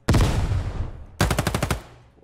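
Gunfire in the video game Ground Branch: a loud burst of rapid shots, a short gap, then a second fast automatic burst of about eight cracks, close and sharp.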